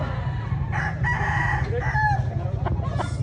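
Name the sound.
rooster crowing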